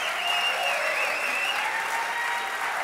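An event audience at a fall contest evening applauds and cheers, a dense, sustained wash of clapping and crowd noise that fills the hall without a break.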